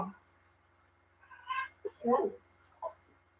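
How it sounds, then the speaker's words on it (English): A cat yowls and meows several times, close by and moderately loud, in a quiet indoor room with a low electrical hum in the background. "if you can hear the yarling, that is the bipolar cat"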